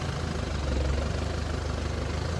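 A tractor engine runs in a steady low rumbling drone, loud and close, with a continuous throbbing idle and no voices.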